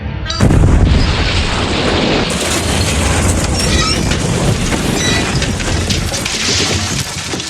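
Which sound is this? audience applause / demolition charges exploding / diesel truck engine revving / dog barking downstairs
demolition charges exploding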